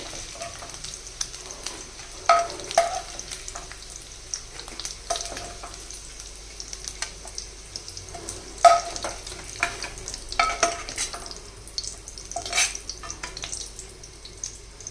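Dried fish, potatoes and eggs fry in a pan with a continuous sizzle, broken by repeated sharp scrapes and clinks of a spatula stirring. No one speaks.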